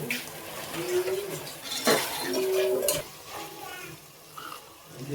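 Tomatoes fry in a pan with a bit of kasuri methi while a utensil stirs them, scraping and clinking against the pan over a soft sizzle, with a faint voice in the background.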